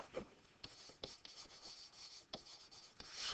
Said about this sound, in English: Let's write slope again there.